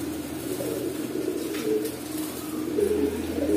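Huma dobaj pigeons in a seller's collection coo in soft, low, repeated throaty murmurs, close by and alone.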